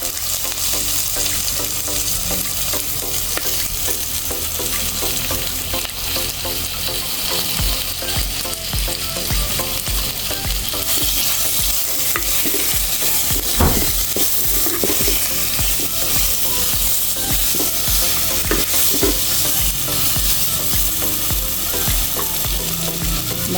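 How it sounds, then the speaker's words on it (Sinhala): Fish mixed with chili sizzles loudly in a frying pan, a dense continuous hiss with steady stirring and occasional utensil knocks against the pan, close and without talk. "බැදුනට පස්සේ මම මිරිස් තුන පහ කලවම් කරපු මාළු ටික මේකට එකතු කරගන්න."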